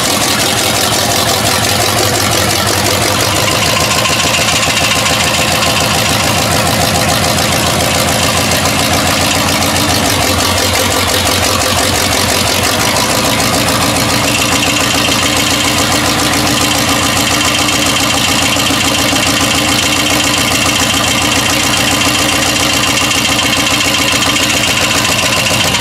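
A project car on jack stands with no brakes runs steadily at idle, its engine loud, close and continuous with an uneven, knocking-tinged mechanical note throughout.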